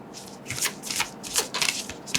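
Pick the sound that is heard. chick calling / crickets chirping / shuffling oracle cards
shuffling oracle cards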